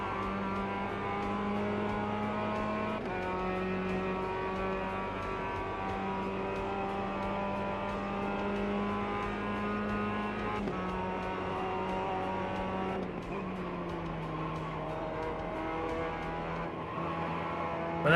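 A race car engine in the iRacing sim drones steadily and loudly throughout, holding a sustained harmonic tone with a few shifts in pitch as revs change, no voices over it.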